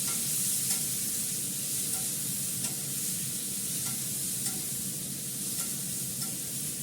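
Onion and potato frying in a pan, a constant hissing sizzle with faint occasional stirring scrapes, steady and close with no talk.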